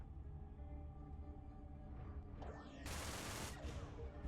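A Gatling gun fires in the Everspace space-combat game, a dense, harsh burst of rapid shots lasting under a second over a low engine rumble, with whooshing effects just before it.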